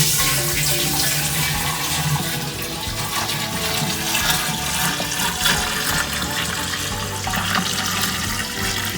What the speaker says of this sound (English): pouring 3 gallons of sweet tea into here.